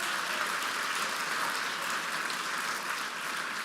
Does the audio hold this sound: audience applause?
yes